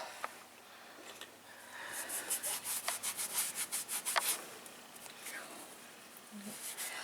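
Cloth rubbing oil off the metal body of a Singer AK336347 industrial sewing machine, a run of quick, soft, rhythmic swishing strokes close by that swells and then fades, with no talking.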